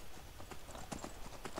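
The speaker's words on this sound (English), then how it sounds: "So how long can I run for with a horse?" Horse hooves in the Skyrim video game, a rapid galloping clip-clop of repeated hoofbeats at close range, steady and fairly quiet throughout.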